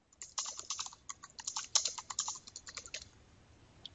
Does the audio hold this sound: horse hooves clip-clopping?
no